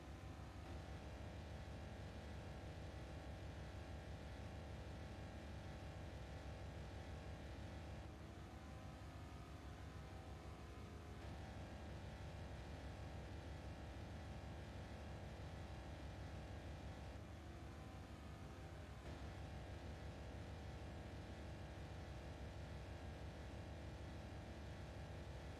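A V8 car engine in the Forza Motorsport 4 racing game, a dense continuous engine roar at fairly low level, holding steady with brief shifts in pitch as gears change.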